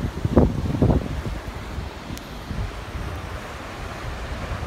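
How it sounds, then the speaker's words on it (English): Ocean swell on the Tasman Sea washes in with a couple of soft surges early on, then settles into a faint, steady wash of surf and wind. "that's a big, big swell coming through too"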